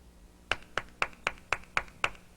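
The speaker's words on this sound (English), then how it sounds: "did you know that someone was clapping their hands together?" Hands clap seven times in a steady, even rhythm, each clap sharp and close against a quiet background.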